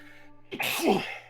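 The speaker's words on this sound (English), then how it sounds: "Sorry, I'm gonna sneeze." A quick inhale builds into a single loud, close sneeze, explosive and breathy, over a faint background hum.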